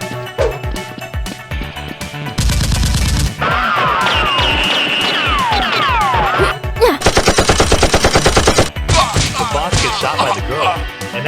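Nerf guns fire in a staged Nerf war skirmish: loud, punchy shots come in quick bursts, including one rapid rattling volley, mixed with whooshing effects and other clatter.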